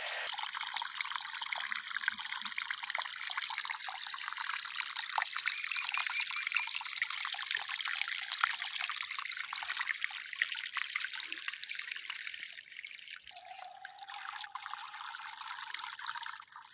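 Water pours in a steady, rushing stream, with a change in tone near the end as the flow shifts; no one speaks.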